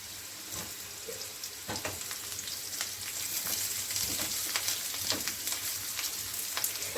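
Potatoes sizzle in a little oil alongside green chillies, for a pointed gourd curry, a steady close hiss broken by scattered crackling pops throughout.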